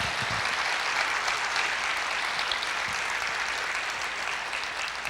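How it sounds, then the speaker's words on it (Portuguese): A church congregation applauds steadily and fairly loudly, a dense, sustained wash of many hands clapping at once with no speech over it. "Você pode aplaudir o Senhor?"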